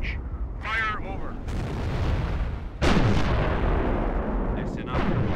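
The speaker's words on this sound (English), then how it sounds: "Prepare for barrage here." An artillery barrage fires in the video game Company of Heroes, with heavy booming shots and rumbling blasts, two of them sharp and loud, mixed with radio chatter and voices.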